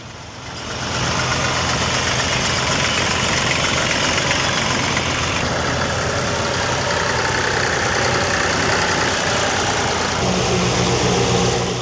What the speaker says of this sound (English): we move on just in time to catch up with the tractor parade as they pass through the showground to the main arena